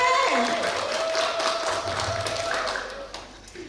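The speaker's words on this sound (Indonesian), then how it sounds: "Tepuk tangan dulu untuk regu B." Scattered applause from an audience at a city-level final of a school quiz competition in Palembang, cheering a team after a correct answer; loose, uneven claps with voices murmuring over them, fading out toward the end.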